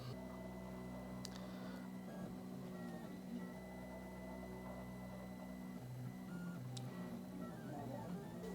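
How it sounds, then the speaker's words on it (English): 3D printer laying down the first layer of a print for an IC pin straightener, a steady mechanical hum of stepper motors with shifting tones and a few faint ticks, alone with no talk. "So now it seems like it is correctly printing the first layer"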